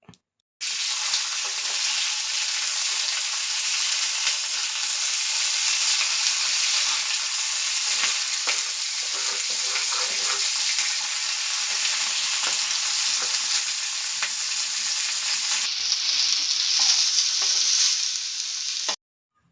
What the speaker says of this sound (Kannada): ಇದಕ್ಕೆ 1 ಸ್ಪೂನಷ್ಟು ಆಯಿಲ್ ಹಾಕಿಬಿಟ್ಟು ಚೆನ್ನಾಗಿ ಫ್ರೈ ಮಾಡ್ಕೋಬೇಕು